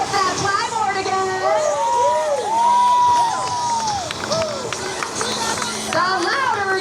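At an outdoor flyboard stunt show, a crowd cheers and shouts throughout, with children's voices rising in long whoops above a steady background roar. The cheering stays loud and sustained for the whole stretch.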